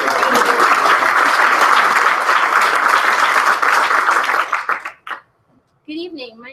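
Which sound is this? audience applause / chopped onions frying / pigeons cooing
audience applause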